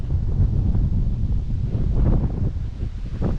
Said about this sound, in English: That wind is kicking pretty good.